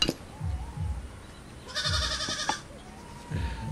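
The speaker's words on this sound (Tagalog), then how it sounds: "Umiingay na yung mga kambing ko." Goats bleat several times, a few separate calls with quiet gaps between them, fairly close and clear over low background noise.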